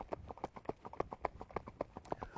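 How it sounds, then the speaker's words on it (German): A young horse under saddle, only recently started under a rider, trots with crisp, regular clip-clop hoofbeats in a steady rhythm, close and clear. "wie man sieht, das Pferd selber hier, der Jamelgo, ist gerade angeritten"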